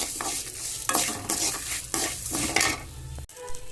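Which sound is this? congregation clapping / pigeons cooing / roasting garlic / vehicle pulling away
roasting garlic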